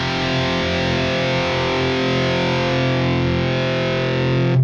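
A 1985 Marshall JCM800 2203 tube amp pushed into power tube distortion gives a steady, loud, saturated sustained guitar tone with dense overtones, holding evenly without a break.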